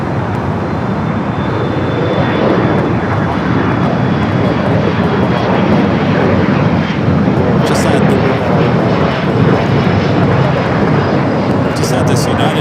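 An aircraft taking off from runway 25 right at LAX (Los Angeles airport), a loud continuous engine roar that holds steady throughout, close and dominant, with brief faint sounds near the end.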